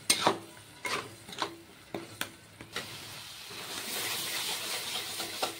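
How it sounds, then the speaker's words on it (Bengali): Spice paste with tomato fries in a pan, a run of sharp stirring clacks and scrapes repeating roughly every half second, then giving way to a steady sizzling hiss. "এখন টমেটোটা দেওয়ার পর মশলাটাকে আরও 5 থেকে 6 মিনিটের মতো আমি ভালো করে ভেজে নেব"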